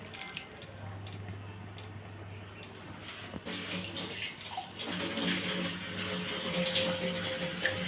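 Bowl-rinsing water poured from a bowl into a pan of potol and egg curry with mustard paste, a steady close splashing gush that strengthens partway through over a low background hum.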